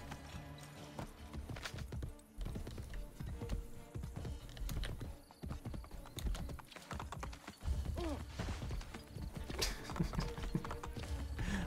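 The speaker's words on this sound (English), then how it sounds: "I'm gonna ride every horse like this now." Horse hooves clip-clop in a quick, steady rhythm while riding in a video game, continuous throughout and fairly quiet overall.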